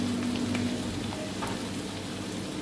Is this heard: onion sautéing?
yes